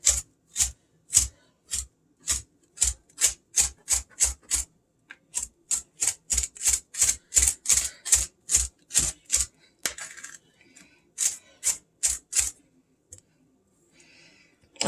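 A curved kitchen knife minces vegetables on a cutting board: quick, sharp, evenly spaced chops in close bursts, a short pause partway through, then a final run before the chopping stops.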